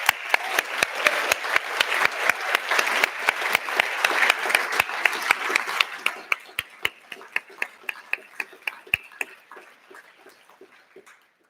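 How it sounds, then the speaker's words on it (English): Audience applause at a manufacturing skills awards ceremony, a dense burst of clapping that thins out over the last few seconds into a handful of separate, sharp claps. "So a massive round of applause to you."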